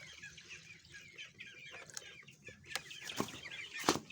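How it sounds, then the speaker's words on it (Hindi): Young chicks in a cage clucking and peeping in a steady, busy chatter, with a few sharper louder calls toward the end, fairly close and alone. "ये देखें दोस्तों, ये हमारे चिक्स हैं"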